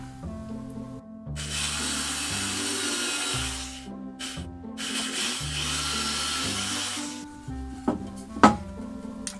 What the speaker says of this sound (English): I need to drill two holes in between that line